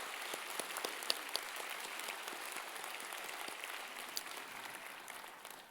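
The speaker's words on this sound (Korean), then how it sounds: "우리 하나님께 감사의 박수를 한번 올려드리겠습니다" A church congregation applauds at a Sunday service. The clapping sounds faint and distant but forms a steady, rain-like patter of many hands, with a few sharper claps poking out, and it tapers slightly at the end.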